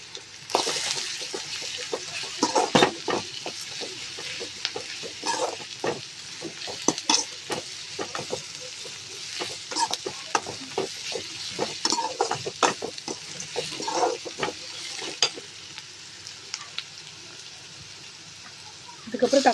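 Onions and garlic sauté in a pan for potato masala, a loud, close sizzle broken by frequent scraping and stirring strokes that continue throughout.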